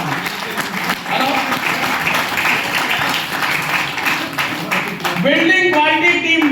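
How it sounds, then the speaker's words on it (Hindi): Loud, sustained applause fills a large seminar hall, dense clapping from a big crowd continuing steadily, with a voice and music rising over it in the final second. "जोरदार तालियां साहब।"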